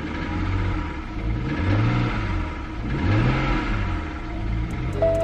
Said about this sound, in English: let's go ahead and start up the car